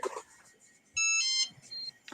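A short electronic beep sounds once, a bright tonal chirp lasting about half a second, followed by a fainter brief tone amid quiet room noise.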